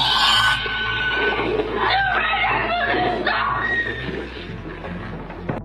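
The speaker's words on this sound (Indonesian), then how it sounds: "kejadian itu didengar langsung oleh Jack dari teriakan putrinya via telepon" A kidnapped daughter screams over the phone in a film scene, her cries loud and ragged across the whole stretch, with sobbing, whimpering breaks and a dog-like yelping quality mixed in.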